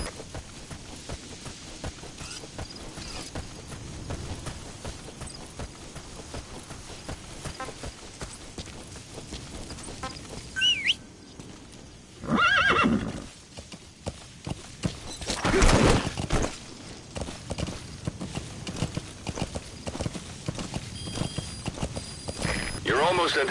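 A horse in the Metal Gear Solid V wilderness clip-clops along in a steady hoofbeat rhythm, with a few louder bursts and a whinny breaking through midway over a low game backdrop.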